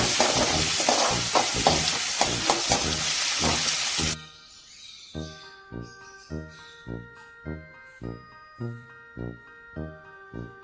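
Chopped onion and dried red chilli saute loudly in a pan for a few seconds, with a rhythmic scraping stir over the hiss, before the sizzle cuts off and gives way to rhythmic melodic tones.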